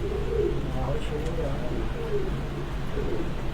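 A champion pigeon coos repeatedly in low, soft rounded calls close by, with a steady background murmur underneath and other birds faintly present.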